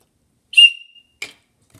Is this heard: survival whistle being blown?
yes